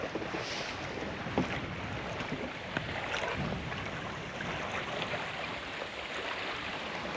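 A sailboat moves across open water near a Swedish island, with steady wind rush, water swishing against the hull and faint creaks and knocks, no voices.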